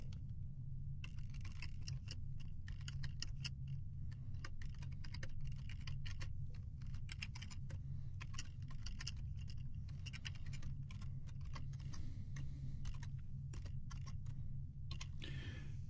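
Steady typing on a computer keyboard while code is written, a dense run of quick close key clicks over a constant low hum, with no talking.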